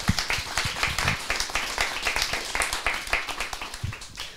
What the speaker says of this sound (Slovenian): jaz mislim, da si zaslužite še en aplavz